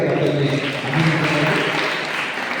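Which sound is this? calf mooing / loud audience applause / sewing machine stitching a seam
loud audience applause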